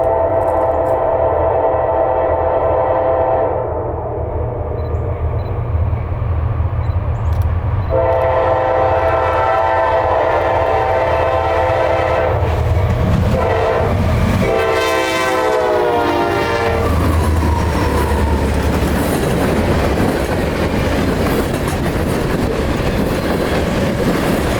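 Norfolk Southern freight train NS 368 rolls past heading north toward Chattanooga on a winter evening in northern Georgia, a loud close steady rumble of wheels and cars with a sustained horn blast and rhythmic clatter.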